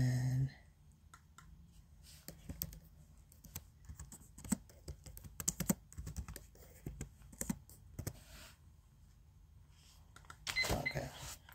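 Close, quick typing on a computer keyboard: irregular bursts of clicking keystrokes with brief pauses, fairly quiet, ending in a denser flurry of keys near the close.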